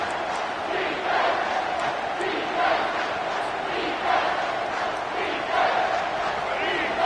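A packed football stadium crowd roars steadily on third down to back the home defense, a dense continuous wall of cheering and shouting that swells in repeated surges throughout.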